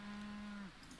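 A human voice imitates a cow mooing with one short, steady, low moo that drops off at the end, heard close and alone.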